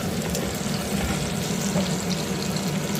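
Onion and tomato frying in a pan for a fish curry, giving a steady, close sizzle that holds an even level throughout with no speech.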